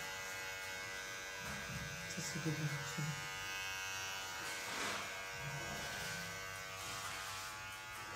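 An electric hair trimmer buzzes steadily with a thin, tonal hum while shaving, heard faintly in the background as people talk quietly nearby.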